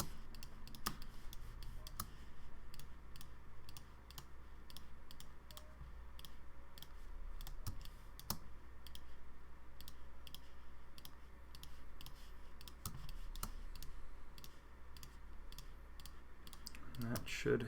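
Mouse clicks in Illustrator's shape builder tool sound as quiet, sharp ticks spaced irregularly, roughly every half second to second, over a faint steady room hum with no talking.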